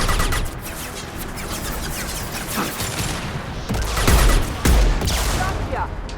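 Sustained gunfire in the Mass Effect video game crackles as a dense, continuous volley with heavier thuds near the end, while voices speak faintly underneath.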